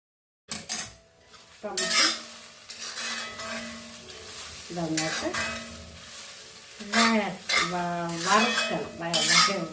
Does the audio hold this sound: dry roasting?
yes